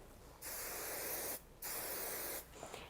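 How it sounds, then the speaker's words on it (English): Matrix Total Results High Amplify hairspray sprayed at close range onto styled hair: three steady hissing bursts, the first two about a second long, the last shorter, separated by brief pauses, close and fairly quiet. "This is a really high holding hairspray."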